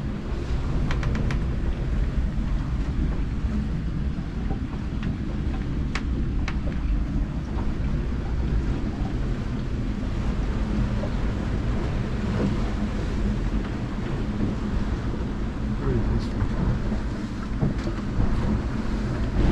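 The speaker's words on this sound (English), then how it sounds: "The wind's just increased." Wind and water surge steadily around a Westsail 32 sailboat in stormy weather, a loud, continuous rush with low rumbling gusts and occasional splashes, alone without voices.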